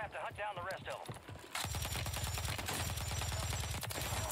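Rapid automatic fire from a Swarm gun in a video game, a dense, sustained burst of shots continuing for several seconds after a person speaks briefly.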